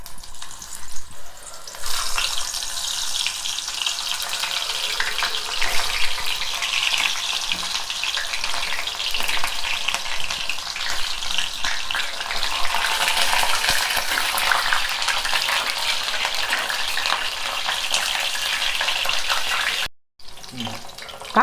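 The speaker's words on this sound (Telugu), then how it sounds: "ఇప్పుడు ఆయిల్ వేడైంది, ఇగో కాయలు వేయించుకుందాం." Bitter gourds frying in hot oil give a loud, continuous sizzle and crackle that holds steady for about twenty seconds before cutting off abruptly near the end, with faint talk underneath.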